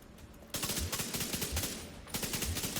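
An enemy MG gunner in the video game The Division 2 fires a machine gun in rapid repeated bursts, loud and close, with a short pause before the chatter resumes.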